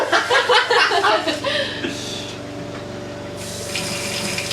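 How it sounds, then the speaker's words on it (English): Water gushing and splashing from a pumped tap in an off-grid cabin in uneven bursts, with a steady mechanical hum underneath and a faint voice reacting. "It's running water."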